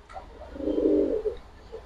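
A pet pigeon gives a single low, rolling coo at close range, swelling and fading over about a second against quiet background.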